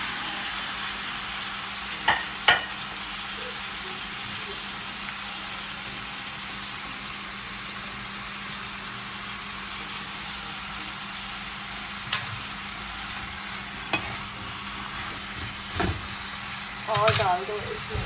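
Four roughly chopped tomatoes fry in a pan for a creamy paneer gravy, a constant soft sizzle under a few sharp clinks and scrapes of stirring, faint and close.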